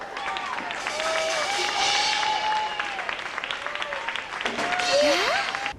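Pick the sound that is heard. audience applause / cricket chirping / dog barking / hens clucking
audience applause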